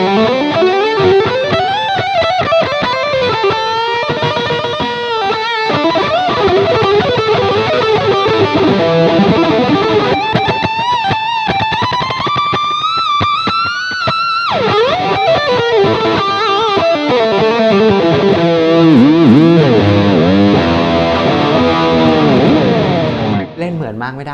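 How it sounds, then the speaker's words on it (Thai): Heavily distorted electric guitar playing sustained chords and melodic bends, loud and continuous for the whole stretch, with no voices. "เมื่อกี้ก็เป็นเสียงแตกนะ ซึ่งแบบปิกอัพค่อนข้างแรงเลย"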